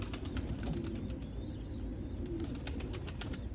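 Pigeons at a loft on a cool September day, including a bozak pigeon, with soft cooing and a few flutters of wings over a constant low outdoor rumble, no voices.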